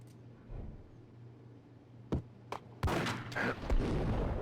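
Gunfire in the Max Payne video game: sharp isolated shots ring out one at a time, followed by a denser burst of several close blasts over a low background hum.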